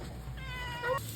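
A single short meow from a male cat, rising and then cut off, heard fairly close against a quiet background hum.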